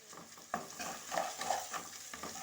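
Ginger-garlic paste is stirred and fried for a chicken curry. The sizzle is quiet and constant, and soft scrapes from the spoon recur every half second or so. No voices.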